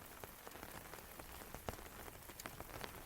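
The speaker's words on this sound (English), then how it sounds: "raindrops glide over the roof in long, whispering lines, steady and even" Rain falls on a glamping tent roof, a soft, steady, even patter with scattered nearby drops ticking out above the constant hiss.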